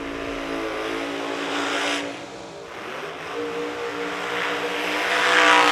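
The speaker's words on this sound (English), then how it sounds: "both cars make too much noise" Two race cars accelerate hard on a track at a racing event, a loud, continuous engine roar whose pitch climbs as the revs build, swelling louder toward the end.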